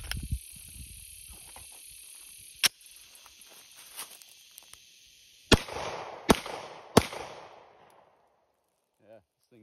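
A Glock 17 pistol fires a few sharp, loud reports, one single shot followed after a pause by three closer together, with ringing steady noise in between and quiet afterward.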